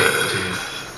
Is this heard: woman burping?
yes